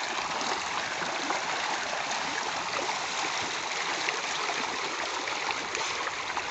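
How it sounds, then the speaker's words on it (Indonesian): A river stream flowing past fish cages holding tilapia, a continuous, dense, close rushing of water with an even, unbroken wash and no voices. "Sungai atas keramba ikan nila guys."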